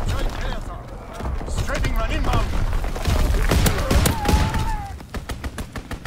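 Rapid bursts of gunfire from a double barrel shotgun in a video game, sharp repeated shots in clusters mixed with game noise and talking voices.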